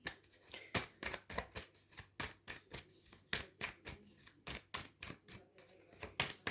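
Oracle cards are shuffled by hand for a reading, giving a steady run of crisp, close slaps and riffles in quick bursts against a quiet room, with no voice present.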